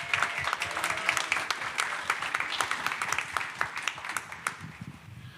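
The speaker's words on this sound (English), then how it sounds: "Let's give a huge round of applause to Diego Molina." Live audience at a tech conference applauding a speaker, dense sustained clapping from a sizeable crowd with a few sharper individual claps, tapering slightly toward the end.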